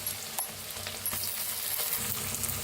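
Onion masala paste with a pinch of hing frying in a pan, giving a steady, dense sizzle with small crackles and spits, close and continuous throughout.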